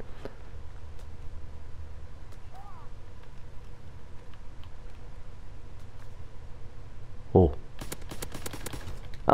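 An M1A1 rifle fires in a WWII multiplayer shooter on the Gustav Canyon map, a quick burst of sharp reports near the end over steady game ambience, with faint distant shots earlier.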